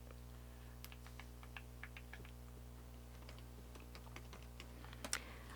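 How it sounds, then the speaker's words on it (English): Soft, irregular clicks of typing on a computer keyboard tap along in bursts over a constant low electrical hum, quiet and close, with a slightly louder flurry of keystrokes near the end. "Okay, done typing them"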